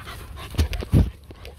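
A four-month-old Rottweiler puppy panting and scrambling as it jumps up, with close, soft breaths and two heavier thumps of paws or body, no talking.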